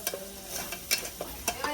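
Fish fries with turmeric and spices in a pan on a wood-fired stove, giving short bursts of sizzling and stirring scrapes in quick irregular succession, close but fairly quiet.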